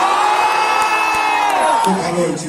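A live crowd at a show in Kolkata cheers, whoops and shouts loudly and continuously, a dense roar of many voices close up.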